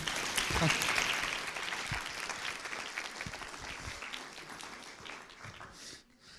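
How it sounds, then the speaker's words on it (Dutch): An audience at a Dutch cultural policy presentation claps in a long, dense round that starts loud and slowly thins out, with voices faintly audible beneath it. "Dames en heren, mag ik een heel groot applaus Thea Jonker, Johan Idema en Roelof ook."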